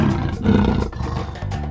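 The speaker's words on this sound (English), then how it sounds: "Leopard." A leopard gives a loud, raspy roar lasting over a second, then a short growling tail, close and alone.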